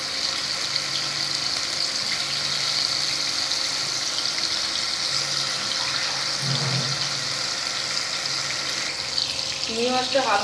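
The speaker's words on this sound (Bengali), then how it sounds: "এবার চিংড়ি মাছগুলো ভেজে নেবো এই তেলে।" Prawns frying in oil after potatoes, part of a taro-root and prawn curry, give a steady, close crackling sizzle that fills the whole stretch, with a few brief scraping and stirring sounds near the end.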